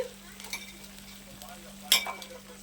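Quiet stirring of ginger and garlic in oil in a pan for chicken gravy, with a soft sizzle underneath and a steady low hum, a brief louder scrape of utensils near the end.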